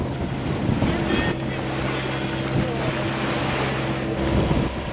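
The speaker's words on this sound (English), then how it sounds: "now we just get to sit here and just beat into these rollers" A sailboat motors into ocean rollers off the Florida Gulf coast, a steady low engine drone under constant wind buffeting the microphone and rushing wave noise, with occasional thumps as the hull meets the swells.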